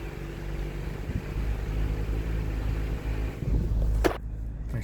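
A 2021 Ford Bronco Badlands crawls off-road on a trail in Alberta at about 1500 RPM, its engine a steady low rumble close by, with a brief sharper knock near the end.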